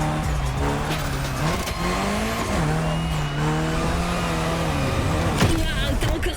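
A car drifts in the racing game The Crew Motorfest, its engine droning steadily with pitch sweeps and tire squeal throughout, while voices talk over the game audio.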